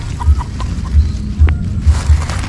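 A chicken clucks outdoors in a few short, spaced calls, faint and close over steady low background rumble.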